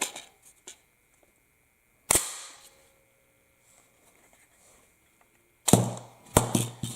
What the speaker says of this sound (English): Positive drop, free drop. Mag ejected, round ejected.